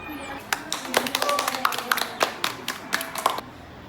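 A small group claps for a few seconds, with uneven, scattered handclaps that sound close and fairly light.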